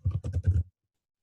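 Rapid burst of about six keystrokes on a computer keyboard while typing an email address, close and fairly loud, then silence.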